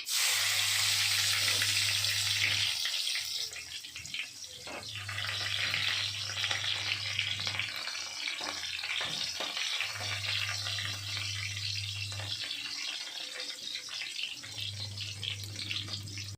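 Chopped onion sizzles in a few spoonfuls of hot oil with cumin and mustard seeds, a loud steady frying hiss with stirring and occasional soft clatter, while a low hum cycles on and off in the background.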